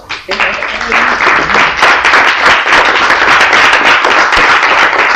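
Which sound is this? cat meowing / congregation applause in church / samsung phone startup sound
congregation applause in church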